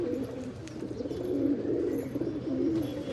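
A red-eyed pigeon coos in low repeated rolling calls, close and continuous, over a faint background hum.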